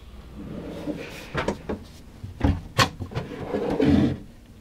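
A kitchen drawer in a 2022 Carado T 447 camper van opening, a run of sliding rumbles and several hard knocks and clacks close by, with no talk over it.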